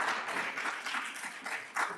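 Audience applause at an architecture talk, a steady wash of clapping lasting about two seconds at moderate level, with a brief louder swell near the end.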